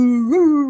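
A voice imitates a hound dog howl, a single sustained, rising-then-falling howl sung loudly and close for under a second.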